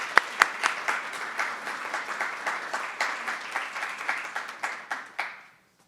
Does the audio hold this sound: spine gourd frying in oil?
no